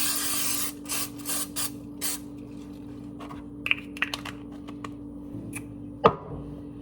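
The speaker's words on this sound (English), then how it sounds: "So I'm gonna spray it all." Short bursts of cooking spray hiss from a can, several quick sprays in the first two seconds, followed by quiet tapping and handling sounds against a faint background hum.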